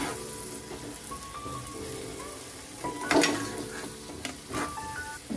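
A yogurt-based green turmeric curry (lili hardar nu shak) bubbles and sizzles in a pan on high heat while being stirred, a steady frying crackle with a louder scraping swell midway.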